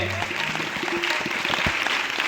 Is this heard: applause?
yes